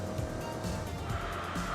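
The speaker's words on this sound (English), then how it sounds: "you can hear just a little bit more rumble to the exhaust" Steady engine rumble from a 5-liter V8 car with a level 1 power card in the Enthusia Professional Racing game, a continuous close exhaust drone with faint tire noise and no talk.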